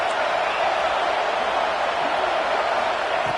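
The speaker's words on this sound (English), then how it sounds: "Crowd noise. This stadium is vibrating." A packed football stadium crowd roars in a steady, dense wash of noise that holds at full strength without a break.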